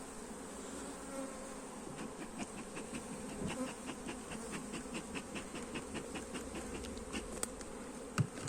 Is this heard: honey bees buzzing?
yes